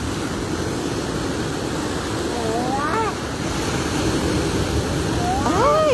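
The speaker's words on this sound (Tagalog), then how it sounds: "Ang lakas ng alon, no? Pagkatapos ng bagyo." Powerful ocean surf after a typhoon roars loud and steady throughout, with wind buffeting the microphone and a voice briefly rising over the crashing water.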